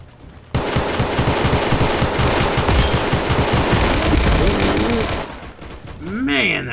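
AK rifle fire in the Roblox game Unit 1968 rattles in a sustained, rapid automatic burst lasting several seconds, loud and close, before it stops and a voice speaks briefly.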